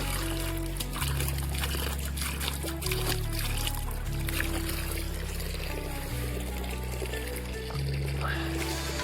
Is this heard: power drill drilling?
no